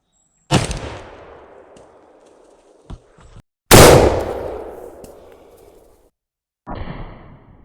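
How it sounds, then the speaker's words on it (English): An 1887 Winchester lever-action rifle in .70-150 WCF firing a 900-grain bullet into ballistic gelatin: two loud, close booming shots with long rolling echoes, a few mechanical clicks between them, and a fainter burst at the end. "going to stick it down in this big old gun and shoot this ballistic gelatin"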